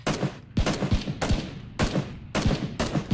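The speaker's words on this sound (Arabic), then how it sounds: "رميت رصاص الشوتجن كله يا رجال" Shotgun blasts in the PUBG battle royale game, five sharp booming shots spaced at uneven intervals of roughly half a second to a second, loud and close with short decaying tails.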